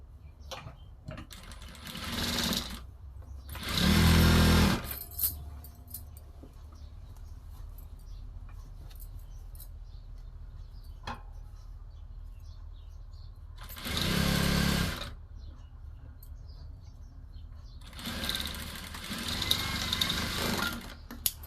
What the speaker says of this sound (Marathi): ह्या साईडनी पण आपण टिप मारून घेऊ